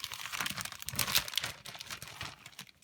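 Plastic packaging from a sweet shop craft kit crinkles up close, with quiet, irregular rustles and crackles and no talk.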